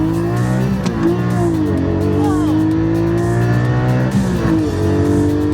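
A Porsche accelerates hard with its engine revving loudly and continuously, tires squealing intermittently as it corners, heard from close by.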